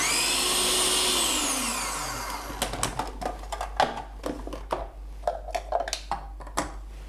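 Food processor whirring loudly as it chops a chickpea burger mixture to a rough texture, then cutting out into a series of short pulsed bursts and clatters.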